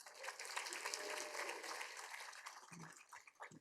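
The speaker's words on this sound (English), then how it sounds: "Come on, guys, you're going to be doing a lot of clapping, a lot of cheering." Audience clapping at a tech developer conference, a dense burst of applause from a crowd that holds steady and then thins into scattered individual claps, heard faintly from a distance.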